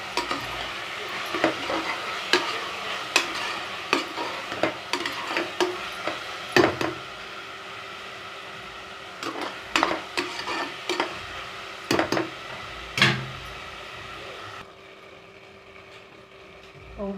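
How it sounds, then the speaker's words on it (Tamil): A spatula scrapes and clacks repeatedly against a pan while onions and tomatoes for chickpea biryani sizzle steadily underneath, close up, with irregular stirring strokes. "ரெண்டையும் நல்லா வதக்கி விட்டுக்கலாம்"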